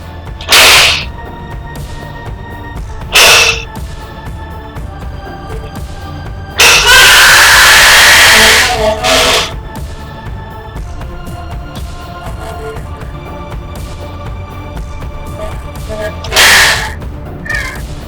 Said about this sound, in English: a gun going off, being shot in the room, and the last shot, someone screaming